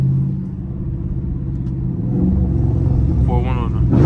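A Dodge Scat Pack's engine rumbles deep and loud with the windows down at low speed while drifting, a steady low growl that swells midway, heard from inside the car with a voice cutting in near the end.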